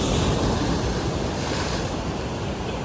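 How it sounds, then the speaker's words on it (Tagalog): Waves wash onto the beach at Magic Island in a continuous loud surf roar mixed with heavy wind buffeting the microphone. "hampas ng alon sa dalampasigan."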